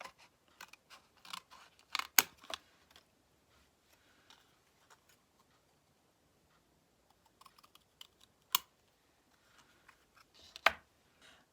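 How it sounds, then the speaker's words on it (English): Scissors fussy cutting out a decoupage paper peony, irregular clusters of crisp snips and paper clicks, close and fairly quiet, with pauses of near silence between bursts. "I'm gonna fussy cut this out, so hoping we get it right the first time."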